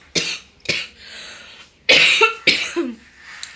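An adult with a cold and sore throat coughs: two sharp coughs, a pause, then two heavier, rougher coughs close to the microphone, ending with a faint catch.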